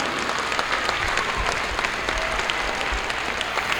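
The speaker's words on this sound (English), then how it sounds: "Big round of applause again" Steady, fairly loud applause from a crowd at a high school wrestling home match, many hands clapping evenly throughout with a few louder claps, no voices above it.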